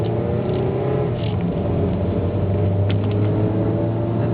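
A Mercury Milan 2.3 car drives steadily with a continuous loud engine drone and road hum heard from inside the cabin, unchanging throughout.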